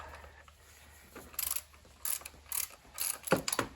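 Ratchet wrench working on the alternator bracket bolt of a Mercedes-Benz (W123, W124, W126, R107 era) gives several short bursts of clicking, close but fairly quiet, over a steady background hiss.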